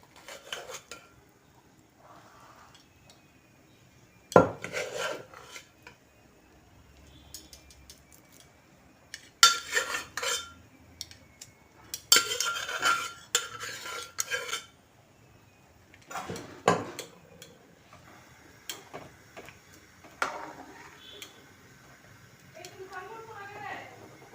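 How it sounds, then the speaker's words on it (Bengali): Cooked rice is stirred into milk in a pot, with intermittent scraping and clattering of a spoon against the metal pot, some sharp knocks standing out over a quiet background. "দুধের সাথে ভাতটা ভালোভাবে মিশিয়ে নিয়েছি।"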